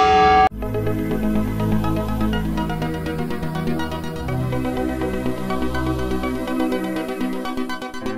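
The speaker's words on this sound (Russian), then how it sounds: "И, пожалуйста, вам колокола." Church bells ring in Venice at seven in the morning, a loud, rich peal of overlapping tones that starts abruptly and keeps resounding without break.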